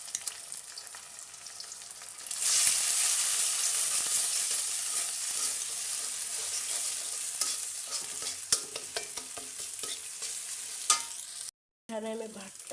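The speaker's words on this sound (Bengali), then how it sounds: "তো আমি এখন ভাত ফ্রাই করে দিব।" Rice with egg frying in a pan, a steady close sizzle that swells as the food hits the hot oil and carries on with occasional stirring scrapes before a brief break.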